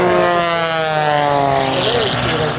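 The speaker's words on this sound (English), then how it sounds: "That aircraft powered by an IO 540, producing over 330 horse" An MXS aerobatic airplane with a Lycoming IO-540 engine of over 330 horsepower roars past at an air show, a loud harmonic propeller drone that shifts in pitch as it passes close by.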